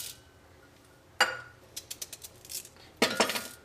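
Hard peppercorns drop into a mixer grinder jar for a Kerala beef fry spice paste, making a sharp pour around 1.2 s, a string of small clinks, then a louder rattling pour near 3 s, with no talking.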